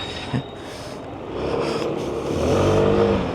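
A scooter rides inside an industrial exhibition hall at a motorcycle expo, its engine droning steadily and rising in pitch as it speeds up, with the hall's broad echoing background around it.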